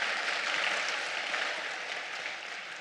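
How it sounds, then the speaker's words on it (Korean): Audience at a Korean political lecture breaks into steady applause, a dense, even wash of clapping that holds for a few seconds and fades slightly at the end, with no talking over it. "박수 한번 합시다"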